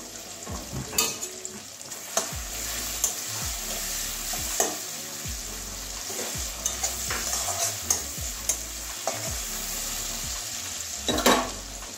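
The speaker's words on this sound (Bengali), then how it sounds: "ভালো করে একটু টমেটোর মশলাটা কষিয়ে নেব" Spiced tomato masala with cabbage frying and being stirred in a pan, with steady sizzling broken by repeated scraping stirs of a utensil at close range, no talking.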